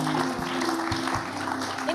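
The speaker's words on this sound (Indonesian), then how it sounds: "Tepuk tangan dulu untuk Bribka Gamayel." A television talk-show studio audience claps for a guest, a short, busy burst of applause under a steady tone of background music, with a voice speaking.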